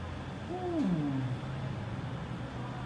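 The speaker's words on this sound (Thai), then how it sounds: "มีแมวด้วย" A single drawn-out cat meow with a falling, bending pitch sounds at a vet visit, fairly clear over a steady hum of room noise, with no voices during the call.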